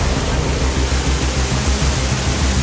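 A waterfall in the Amazon jungle roars as a loud, dense, continuous rush of falling water, close and unbroken throughout.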